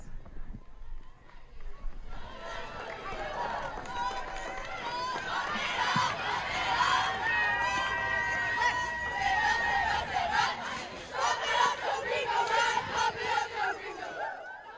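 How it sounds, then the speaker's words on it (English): Middle school cheer teams at the Lake Orion homecoming parade shout and chant together, a loud group of young voices that swells and keeps going, with crowd chatter around them. "these are the young women who cheer for the middle school"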